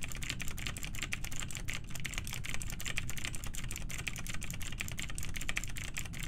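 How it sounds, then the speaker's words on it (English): Computer keyboard clicking close by, a fast, steady stream of sharp keystrokes filling the whole stretch, loud and near, with no talking. "Just hearing massive clicking next to you."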